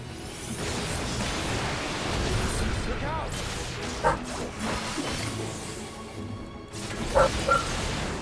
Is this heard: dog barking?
yes